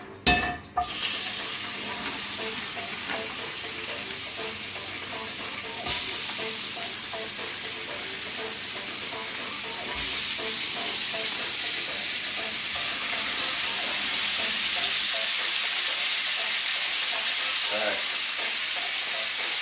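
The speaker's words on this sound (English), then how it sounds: "That's searing." Pork chops sear in a hot pan with a steady, loud sizzle that holds for the whole stretch, broken by occasional clatters and stirring noises, with no talking.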